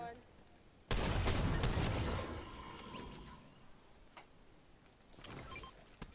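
Rapid bursts of gunfire in Fortnite, loud and close for about a second and a half and then trailing into a quieter stretch with scattered shots, under the game's ongoing ambience.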